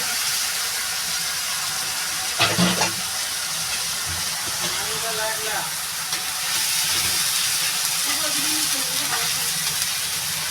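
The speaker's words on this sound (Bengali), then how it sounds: "এটা বন্ধুরা ভালো করে একটু ভেজে নেব" Onion paste fries in a pan for a soya chaap malai curry, giving a steady broadband sizzle and hiss. A brief stirring clatter comes early, and a faint voice can be heard in places.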